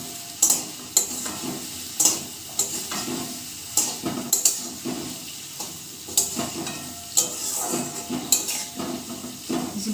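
Banana chops fry in a pot while a spatula repeatedly knocks and scrapes against the metal. A soft sizzle runs close underneath the irregular clanks.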